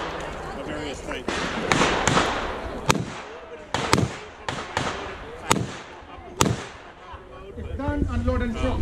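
Sharp gunshots from a S&W Model 325 TRR .45 ACP revolver and other guns at a shooting range, about ten cracks spaced irregularly over people talking nearby.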